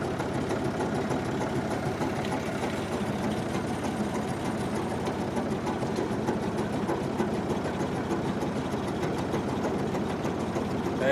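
A Ford 3000 tractor engine at dead idle with a post hole digger attached chugs steadily and evenly up close, a low continuous rumble with no variation throughout.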